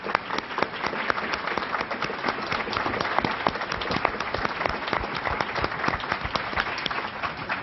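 A large audience applauds steadily at an indoor talk with a retired police detective present, dense continuous clapping that holds at an even level throughout, close and full.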